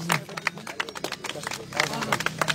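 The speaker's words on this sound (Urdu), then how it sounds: "ان کے لیے تالیاں" Crowd clapping at a cricket final award ceremony as a best batsman award is handed over, scattered uneven claps and crowd chatter running under continuous announcer talk.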